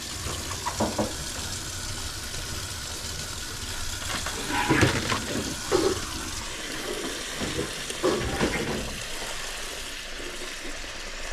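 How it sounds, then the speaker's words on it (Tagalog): Tap water runs into a bowl for washing salad in a kitchen, a steady splashing stream with a few louder gurgles and knocks partway through. "Lagyan natin tubig"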